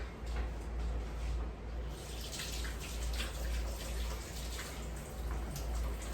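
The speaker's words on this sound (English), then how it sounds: "let me wash my hands really quick" Hands being washed in a kitchen sink under a steadily running tap, a continuous close rush of water lasting the whole stretch with no talking over it.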